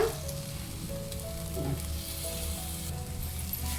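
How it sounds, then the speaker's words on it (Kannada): Boiled lentil stock goes into hot masala in a pan on low flame, setting off a loud, continuous sizzle with faint stirring scrapes and no talk. "ಇವಾಗ ನಾವು ಬೇಳೆ ಕಟ್ಟೇನು ಮಾಡ್ಕೊಂಡು ಇಟ್ಕೊಂಡಿದ್ದೀವಲ್ಲ ಕುದಿಸಿರೋದು ಬೇಳೆ ಅದನ್ನು ಹಾಕೊಳ್ಳೋಣ"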